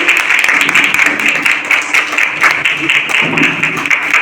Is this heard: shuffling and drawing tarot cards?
no